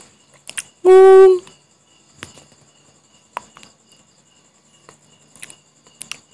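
A bee gives one short, loud, tonal buzz lasting about half a second, with only faint ticks around it.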